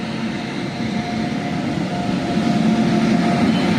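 The Bhavnagar passenger train pulls into Lushala station with a loud, continuous rumble and rolling rail noise that holds steady and swells slightly as it draws near.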